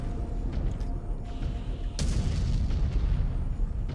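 Mech weapon fire in the MechWarrior 5 Clans video game: a sharp boom at two seconds over a steady low rumble of battle noise, moderately loud and continuing as a dense background.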